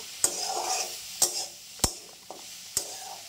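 Pumpkin leaves cooking down in a pan as their water dries off, with a soft low sizzle under five sharp, spaced knocks of a spoon stirring against the pan; no one speaks.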